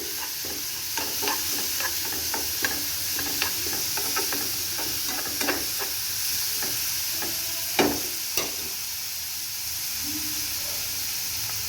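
Green gram sprouts sizzle in a pan, a steady hiss broken by irregular scrapes and taps of stirring, the loudest knocks near the end.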